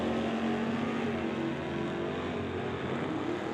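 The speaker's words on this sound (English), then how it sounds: "Dave driving that 56 Corvette. Injected 317 cubic inch Chevy under the hood of Kamloops Runner." A 1956 Corvette with an injected 317 cubic inch Chevy small-block drag racing, a loud sustained engine roar with a rising pitch as it accelerates down the strip.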